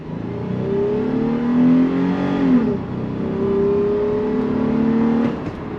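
A 2023 Toyota 4Runner's engine revs at full throttle, rising in pitch as it accelerates, dipping at a shift, then climbing again. The sound is close and loud, with no talk.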